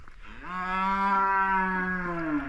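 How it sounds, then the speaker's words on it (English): A cow gives a single long, loud, hoarse moo close by that lasts about two seconds, with no other sound around it. "He's gonna moo himself hoarse."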